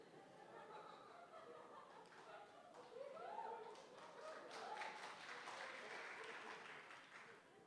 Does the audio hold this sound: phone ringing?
no